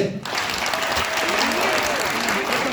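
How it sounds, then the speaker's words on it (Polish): Steady, loud applause from a sports club crowd of coaches, board members and parents at a KS Sempa Warsaw event, dense clapping filling the whole stretch after a brief quiet start, with some voices mixed in. "Teraz wy na 3-4 bijecie brawo."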